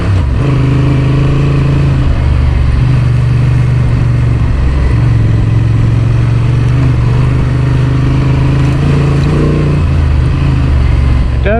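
A Honda Transalp motorcycle engine runs steadily and loudly close by, a continuous low drone with slight swells, and no voices.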